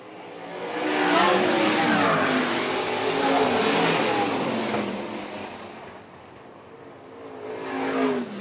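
Sprint car engines from an American Sprint Car Series feature race on a dirt track at Phillips County Raceway roar loudly and continuously, swelling as cars pass through the corners, then fade briefly before another surge.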